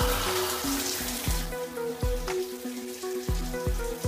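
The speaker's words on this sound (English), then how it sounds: "in a shower, it just goes straight down the drain" Shower water patters and trickles steadily down a drain, a continuous close splashing with small irregular drips and no voices.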